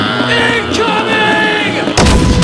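A single loud warning gunshot cracks out near the end of a film scene, bursting sharply after a stretch of tonal voice or music sounds.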